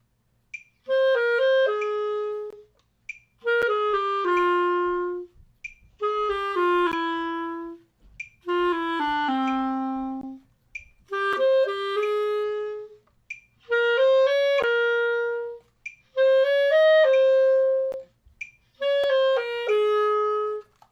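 A clarinet plays eight short phrases of a few notes each, separated by brief pauses, clear and close with no talking.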